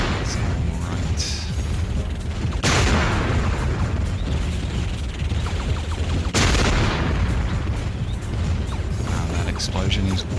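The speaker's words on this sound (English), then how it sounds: "Explosion is way louder than I remember it." Explosions in the video game Buck Bumble go off as two loud, sudden bursts with rumbling decay, over a continuous dense game soundtrack, while a person talks throughout.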